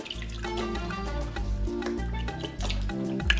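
Water splashes and trickles as a pestle for pounding fufu is washed, with a steady wet swishing and light knocks against a container, close up, while music plays in the background.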